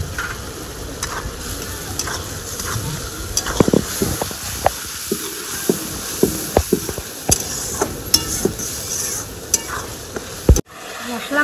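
Spice paste with chopped tomato is stir-fried in a pan for a pangas fish kalia, with a steady sizzle and repeated scraping, clinking strokes of the spatula close by.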